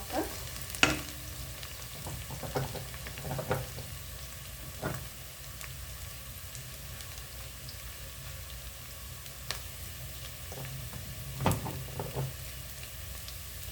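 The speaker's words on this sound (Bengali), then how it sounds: "পেঁয়াজটা লাল হয়ে আসছে হালকা।" Chopped onions frying in oil in a pan and slowly browning, with a steady soft sizzle and occasional clinks from a stirring spoon against the pan.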